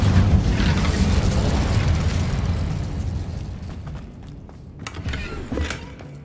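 A fiery Incendio spell blast in Hogwarts Legacy roars out loud and broad, then slowly dies away, with a few small crackles and pops near the end.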